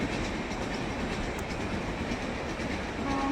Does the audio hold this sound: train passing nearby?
yes